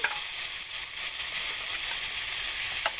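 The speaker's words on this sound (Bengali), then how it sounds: "আমি এখানে বরবটিটা দিয়ে নিচ্ছি মানে সেদ্ধ করা বরবটি" Boiled yardlong beans fry in a wok over high heat for Chinese-style vegetables, giving a steady, loud hiss of sizzling oil with a couple of faint clicks and no talking.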